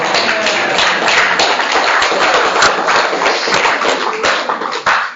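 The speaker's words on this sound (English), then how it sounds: "You shouldn't clap, you're waking everybody up." An audience at a talk by Morris Mo Baker in Anston claps loudly and continuously for about five seconds, a dense close burst of applause that tapers off at the end.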